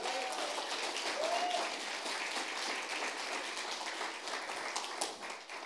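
A church congregation applauds during a Spanish-language sermon, a fairly quiet, continuous patter of many hands clapping across the hall with no pause.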